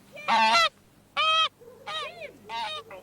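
Geese honk loudly and close by in four harsh, nasal calls, the first three strong and evenly spaced, the last one fainter.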